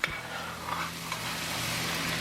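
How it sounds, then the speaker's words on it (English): Garlic and other chili ingredients sautéing in bacon fat in a pan, giving a steady close sizzle with a little stirring and a brief clunk at the start. "Now we're going to saute this all up in that bacon fat"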